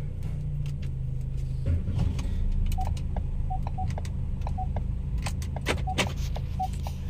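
A Ford Focus, EcoSport or Fiesta with a transmission speed sensor fault on a road test, heard from inside the cabin as a steady low engine and road rumble with intermittent chime-like ticks over it, no talk.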